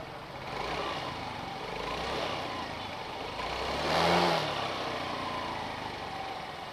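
A motorcycle engine idles with a steady low rumble during routine maintenance on a delivery rider's bike, swelling briefly in a small rev near the middle before settling back.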